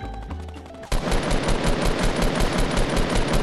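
Rapid automatic gunfire in the video game Fortnite, loud and continuous after a brief opening of game sounds, with a dense stream of shots and no talking.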